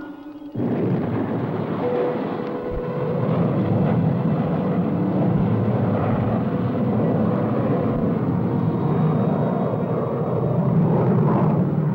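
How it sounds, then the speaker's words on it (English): A spaceship's rocket engine roars as the craft reverses for landing, a loud, continuous rumbling blast that starts abruptly and holds steady up close with no talk over it. "Reversing ship for landing."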